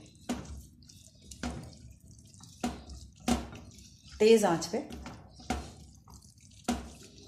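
Water poured into a cooking pan of keema for samosas, heard as a few splashy drips and a short pour close by, mixed with speech.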